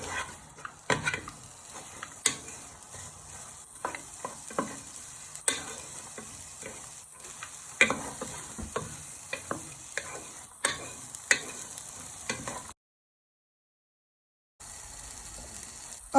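Onions and garlic fry in a pan for a sausage casserole, a steady sizzling hiss broken by frequent scrapes and knocks of stirring, with a short gap of silence near the end.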